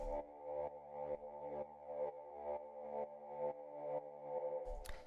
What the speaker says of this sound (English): Basically what it is it's just two saw waves here in analog going into a Formant filter.